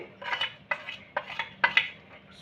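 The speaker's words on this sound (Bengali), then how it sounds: "সব মিশ্রণগুলোকে আমি ভালো করে মিশিয়ে নেব" A utensil clinks and scrapes against a bowl as spices and batter ingredients are stirred together, giving five or six sharp strokes in an uneven rhythm, close and alone.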